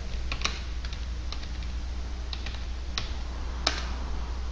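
Keys clatter on a computer keyboard while a Linux command is entered, a handful of crisp, uneven taps over a low steady hum, close by with no voice.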